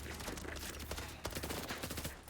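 Turret gunfire in a video game: a dense, rapid crackle of shots that runs continuously and fairly loud through the whole stretch, with a few sharper bursts standing out.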